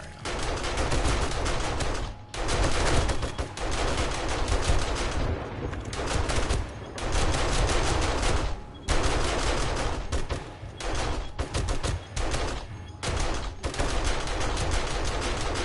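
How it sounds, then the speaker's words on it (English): Sustained bursts of rapid automatic gunfire from a video game, loud and dense, broken by a few brief pauses, with no talking. "Let's try these guns out just for a moment."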